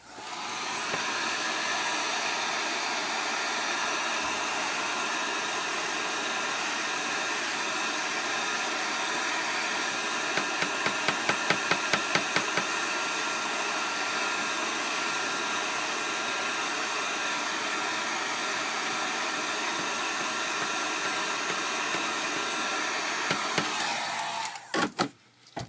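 A heat gun blowing on a Samsung Galaxy S3 phone to loosen it for disassembly, a steady loud whooshing hiss that runs almost unbroken, with brief clicking near the middle and handling noises at the end.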